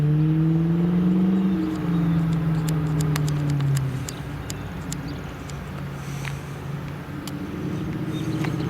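An Infiniti Q45 luxury sedan's engine hums as a smooth, droning tone that slides down in pitch and then settles to a lower steady note, with faint clicks and rattles over it.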